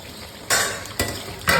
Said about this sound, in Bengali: প্রায় সিদ্ধ হয়ে আসছে, তাই এখন আমি বেগুনটা দিয়ে দেব।